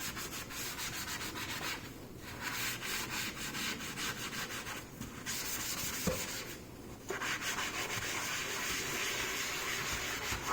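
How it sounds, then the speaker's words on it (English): A damp sponge wipes down a sink from top to bottom, giving a steady broadband rubbing and scrubbing sound with brief pauses between strokes, close and continuous. "take a damp sponge and start at the top"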